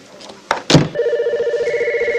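A telephone bell rings in steady repeated bursts, loud and close, after a couple of brief knocks or handling sounds at the start.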